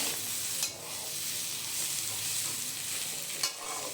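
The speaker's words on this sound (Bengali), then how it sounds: "আদাটাকে এবারে কয়েক সেকেন্ডের জন্য একটু নেড়েচেড়ে নিয়ে ভেজে নেব" Ginger stir-fried briefly in a pan: a steady close sizzle of frying, with a couple of sharper stirring scrapes cutting through near the start and end.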